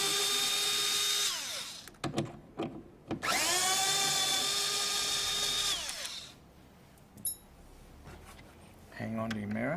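A small cordless power tool whirs during a towing mirror installation on a Mazda BT-50, running in two sustained bursts that spin up and wind down. Clicks and handling noises come in between, and a brief rising whine follows near the end.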